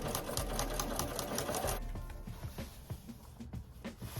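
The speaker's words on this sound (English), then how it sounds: "this is still manageable through just a regular sewing machine" A sewing machine stitches thick African print fabric at close range with a dense, rapid mechanical rhythm, then slows and continues with lighter, uneven stitching.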